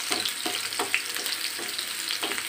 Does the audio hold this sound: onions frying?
yes